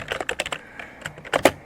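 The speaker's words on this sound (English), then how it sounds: "we're just going to type hello world here" Computer keyboard typing close by, a short burst of crisp key taps with small pauses and a couple of louder strokes near the end, with no talking.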